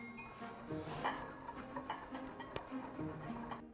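Spoon clinking and scraping against a bowl while salt, cinnamon, ginger and cloves are stirred into pumpkin pie filling, a steady run of close metallic taps and stirs.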